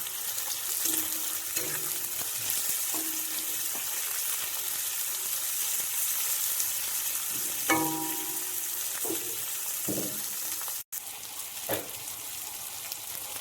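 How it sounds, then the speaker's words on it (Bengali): Chopped onions, dried red chillies and bay leaves frying in hot oil make a steady sizzling hiss throughout, with occasional spatula clinks and scrapes as they are mixed. "পেঁয়াজ, শুকনো লঙ্কা এবং তেজপাতাগুলো একসঙ্গে মিশিয়ে নিচ্ছি।"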